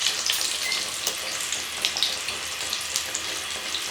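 Beef shami kababs frying in oil in a wok, a steady close hiss and crackle with small irregular pops, continuous and fairly quiet.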